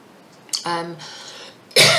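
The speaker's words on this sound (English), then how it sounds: "Excuse me, I've got a bit of a cough." A single throat-clearing cough breaks through a quiet pause, followed shortly by a louder, harsher burst close to the listener.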